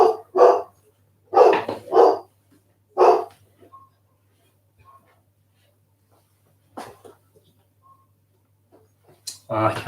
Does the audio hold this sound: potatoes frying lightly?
no